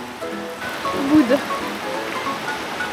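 Heavy tropical downpour in Ubud, Bali, a dense continuous hiss of rain close by, with someone speaking briefly over it.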